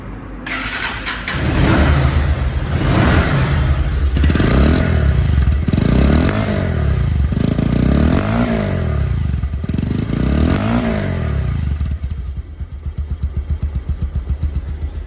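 A Pulsar double-disc motorcycle engine idles close by, then revs repeatedly in rising bursts, settling back to a steady idle near the end.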